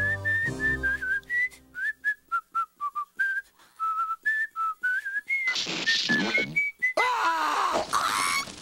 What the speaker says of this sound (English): And no whistling!